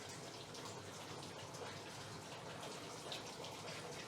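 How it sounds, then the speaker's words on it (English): Water gushing steadily from a tap into a bathtub at an off-grid rest stop set up beside a house, a continuous close hiss and rush of filling water with no talk. "you fill your tub"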